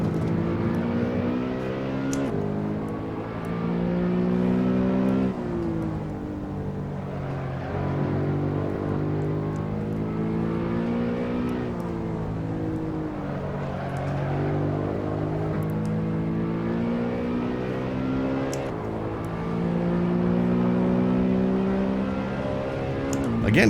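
Racing car engine in the Assetto Corsa video game on PS4, droning steadily and rising in pitch through repeated gear changes, loud and continuous throughout.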